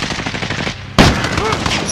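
DMR rifle fire in Call of Duty: Modern Warfare, a loud rapid burst of shots from close by that breaks out sharply midway and continues over dense background game noise.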